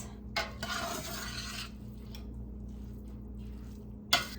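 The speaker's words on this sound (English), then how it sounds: "Give it a good mix." Venison soup mixture being stirred in a pot, with a couple of soft scraping, sloshing bursts early on, then quiet, and a sharp clink of a spoon against the pot at the end.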